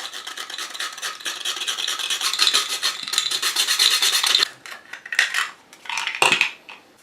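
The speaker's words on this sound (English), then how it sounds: "Some freshly ground nutmeg." Fresh whole nutmeg grated over a bowl of mashed potato, a steady close rasping scrape repeated for several seconds, then a few shorter strokes and taps near the end, with no talking.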